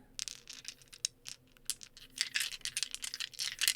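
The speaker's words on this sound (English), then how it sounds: "dice roll for investigation" Dice clatter and rattle in quick bursts, rolling across a hard surface close by during a tabletop Dungeons & Dragons game, a busy tumbling sound with brief pauses.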